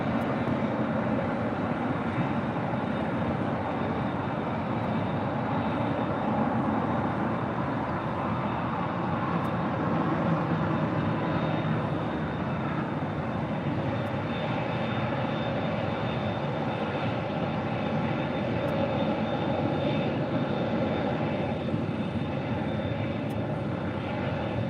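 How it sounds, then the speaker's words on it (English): A Qatar Airways Airbus A350-1000 jet at LAX, its engines producing a loud, continuous roar and hum that holds steady throughout, with no voices. "The Big Q, Qatar Airways, the A350-1000, flight 39 Charlie"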